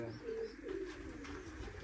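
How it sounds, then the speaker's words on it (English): Pigeons on a house roof coo softly over a low background hum, with a couple of muffled calls; no one talks. "Now the pigeons here I have to do extra work to feed"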